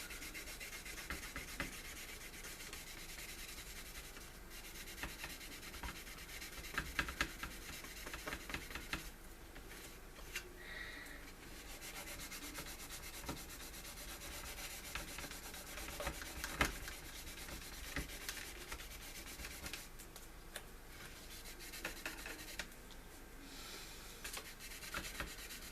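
Continuous light rubbing and scraping of hand-sanding a plastic XB-70 Valkyrie model, quiet and close, with steady back-and-forth strokes throughout.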